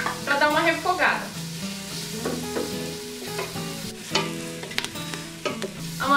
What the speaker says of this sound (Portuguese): Eu vou colocar essa manteiga para derreter. E eu vou colocar cebola picada para dar uma refogada.